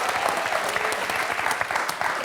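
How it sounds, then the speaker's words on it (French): Lively studio audience applause on a French quiz show, a brief dense burst of clapping with no talk over it. "Très applaudi."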